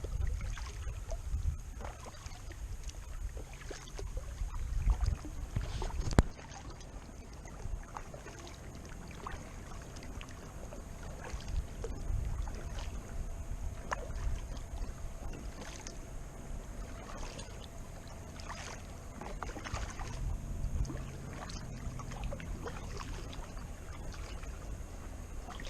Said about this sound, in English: It's going to be another just sort of lazy paddle around the reservoir.